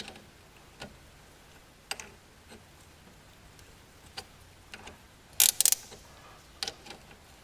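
Ratchet wrench with a 13 socket working a front brake caliper bolt on a 2003 Citroen Xsara Picasso, giving scattered faint clicks that build to a close, loud burst of rapid ratcheting and a final few ticks.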